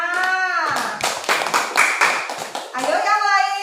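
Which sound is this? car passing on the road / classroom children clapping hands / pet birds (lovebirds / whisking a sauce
classroom children clapping hands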